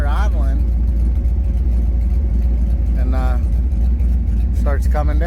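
A 93-02 F-Body car engine idles with a steady low rumble close by, while someone talks over it throughout.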